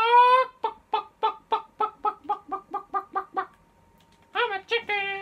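Chicken clucking from the Fortnite video game: a series of about a dozen short, evenly spaced clucks, fairly loud and close, followed by a pause and then a louder burst of squawking clucks.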